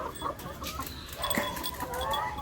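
Chickens on a home poultry farm cluck softly in short, scattered calls, fairly faint against low background noise.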